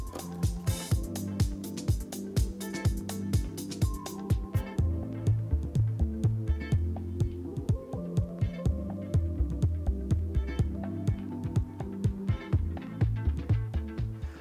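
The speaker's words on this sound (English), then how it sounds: "Chisel then goes into the line. And we'll just keep chipping out that waste." A chisel chips waste wood out of a groove cut by hand in cabinet stock. Sharp, close knocks repeat in a steady rhythm roughly every half second, each with a brief woody thud.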